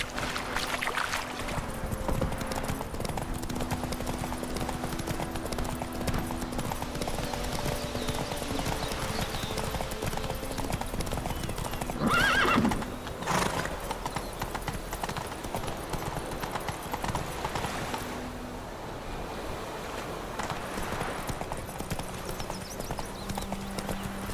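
Geralt's horse Roach from The Witcher 3 clip-clops steadily at a trot throughout, with a brief whinny midway over a continuous in-game ambient bed.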